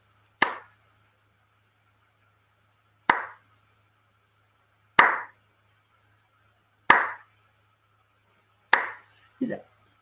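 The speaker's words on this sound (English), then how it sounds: "I'm going to clap out the speed of this." Bare hands clap slowly and evenly, about one sharp clap every two seconds for five beats, then a quick final pair, each crisp and close with silence between and no talk.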